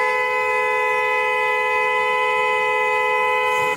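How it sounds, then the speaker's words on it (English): A car horn blares in one long, loud, unbroken honk lasting several seconds before cutting off abruptly, with no voices heard. "I was following behind you honking the horn because you were doing something wrong"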